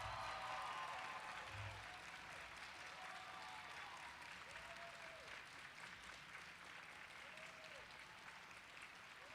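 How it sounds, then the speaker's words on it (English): A ceremony audience at a 2021 student excellence awards applauds a group of student leaders, with sustained, even clapping from a full room that holds steady and fades slightly toward the end. "Let's give this entire group of student leaders a round of applause."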